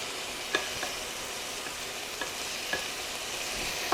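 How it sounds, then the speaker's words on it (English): Steak pieces cooking in a frying pan for a copycat breakfast bagel, a soft continuous sizzle broken by a few light clicks and taps of utensils. "we're going to flip them over. Cook them another 3 to 4 minutes until they're cooked through and no longer pink."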